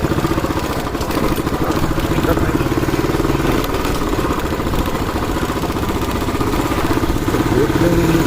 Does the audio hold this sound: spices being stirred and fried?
no